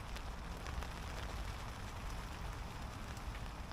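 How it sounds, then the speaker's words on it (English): Heavy rain drums on a nylon tent at a hot tent camp, a steady close patter with dense spattering drops, continuous and even, with no voices. "I love the sound of that rain, just literally a fraction of a millimetre the other side of that nylon"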